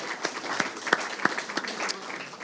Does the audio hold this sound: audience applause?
yes